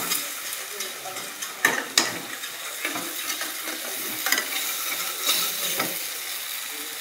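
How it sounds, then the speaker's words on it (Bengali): Potatoes sizzling in a pan while a spatula stirs and scrapes, giving a soft steady frying hiss with several sharp clattering strokes, heaviest around the second and fifth seconds. "আলু ভাজা।"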